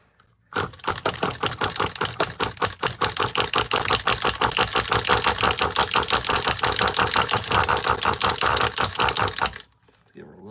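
An OS .18 CVR nitro engine in a Losi RC car fires up and runs loud and close, a rapid buzzing rattle with pulsing throttle blips, then cuts out abruptly near the end.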